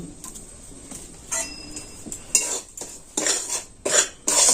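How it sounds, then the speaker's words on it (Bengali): Semolina, gram flour and rice flour frying in ghee, heard as repeated scraping and clinking of a metal spoon against the pan in short bursts, with a soft bird coo in the background. "এবার আমি দিয়ে দিচ্ছি সুজি, বেসন আর চালের গুঁড়ি দিয়ে এটা আমি খুব ভালোভাবে ভেজে নেব।"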